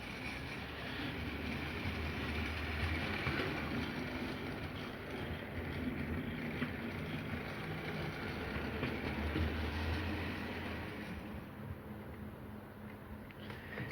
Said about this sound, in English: let's give this a bit of a test run